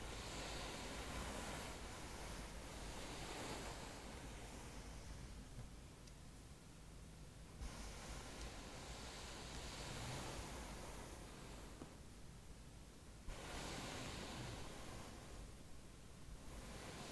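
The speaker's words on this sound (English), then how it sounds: "I suppose it's the ocean." Ocean waves wash in and recede in slow repeating surges, a broad hiss rising and falling at roughly even intervals, steady and fairly distant, with no voices.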